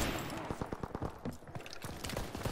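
Rapid bursts of gunfire from a Call of Duty: WWII battle, dense overlapping shots and fusillade crackling loudly and continuously throughout.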